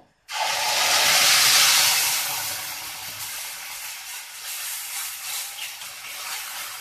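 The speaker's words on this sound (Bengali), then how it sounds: "তেলটি গরম হয়ে গেছে, এখন আমি এই মিশ্রণটি তেলের মধ্যে দিয়ে দিব।" A Bengali spice mixture dropped into hot mustard oil for ghatkol leaf bhorta bursts into a loud, close hiss that swells for a couple of seconds, then settles into a steady, crackling sizzle; no voices.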